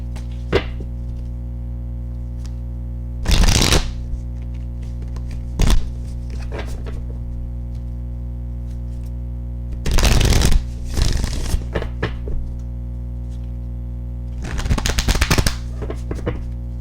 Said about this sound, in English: I'll show you guys how easy to shuffle it is.